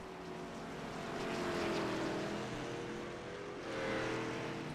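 Race cars running under power at North Wilkesboro Speedway make a distant, steady engine drone that swells and fades twice as the pack passes. No voices are heard.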